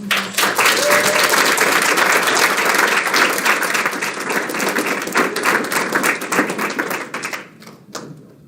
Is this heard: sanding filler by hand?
no